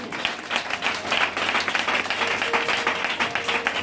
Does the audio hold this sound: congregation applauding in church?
yes